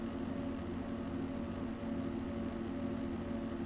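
A pack of B-class motocross bikes idling and revving at the starting gate of a round-one race, a steady droning engine hum heard from a distance with no distinct individual revs.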